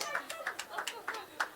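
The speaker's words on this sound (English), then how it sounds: "A round of applause to her." A small audience at a youth month celebration claps for an award recipient, a thin, sparse scatter of a few hands clapping close by in an uneven rhythm.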